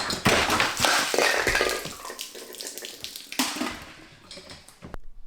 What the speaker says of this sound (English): don't knock over a humidifier